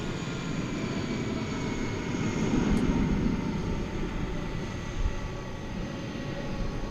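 American Airlines Airbus A320 jet passing steadily with a broad, even engine rumble that swells slightly midway, heard alone with no voices.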